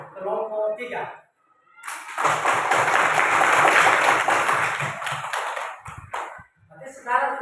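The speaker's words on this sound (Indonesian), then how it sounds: "kelompok 2 sama kelompok 3 tepuk tangan karena sudah dibaca" Students in a classroom clap for a group presentation, a lively burst of many hands clapping for about four seconds, loud and close, between stretches of a teacher talking.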